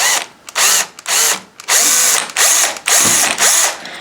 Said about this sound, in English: put it on a piece of tape or something, hold it steady, and then I just go ahead and drill